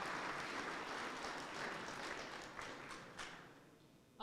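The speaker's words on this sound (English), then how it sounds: "So a round of applause for everyone who completed the 5 years of Black & MacDonald." Steady applause from an employee gathering honoring staff who completed five years at Black & MacDonald, a continuous moderately loud clapping wash that thins slightly toward the end.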